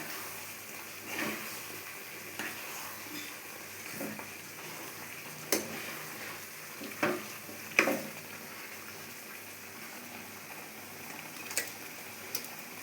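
Mango pachadi sweetened with jaggery simmers in a pan while a spoon stirs it, giving scattered scraping clicks and taps against the pan over a quiet, low bubbling background.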